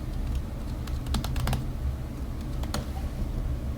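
Typing a password on a computer keyboard: a quick burst of light clicking keystrokes, then a short pause and a few more taps, close up over a faint background hum.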